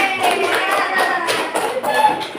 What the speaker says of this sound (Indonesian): Kita kasih tepuk tangan aja anak-anak